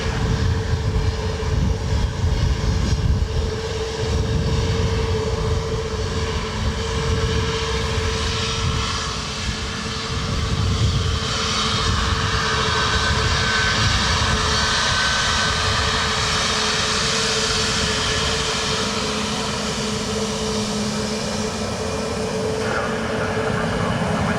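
A jet airliner at Dublin Airport on a wet, gusty Sunday with crosswinds sends out a loud, steady engine roar that holds for the whole stretch, with a faint radio voice now and then beneath it.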